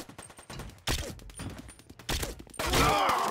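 Automatic gunfire from the video game 007: Quantum of Solace, loud rapid bursts separated by brief gaps and ending in a dense, sustained volley.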